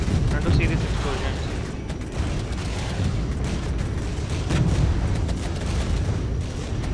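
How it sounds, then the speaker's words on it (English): Explosions in the Regiments war game, US and Russian armour battle: a sustained rumbling barrage of booms and mechanical clatter at moderate loudness, with a voice talking over it. "I want to see this explosion."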